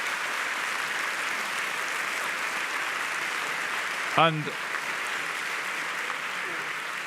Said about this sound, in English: please give our panel the very warmest applause